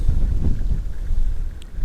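Strong side wind buffets the microphone on a riverbank during shore fishing, a loud, low rumbling gust that swells and eases unevenly, with no voices.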